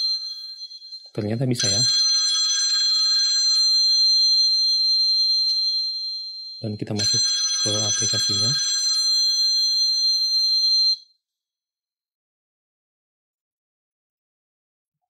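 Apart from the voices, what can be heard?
phone ringing, located with a whistle-activated finder app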